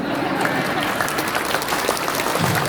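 An audience at a seminar or lecture claps in a steady, sustained round of applause, many hands blending into an even wash at moderate distance with no speech over it.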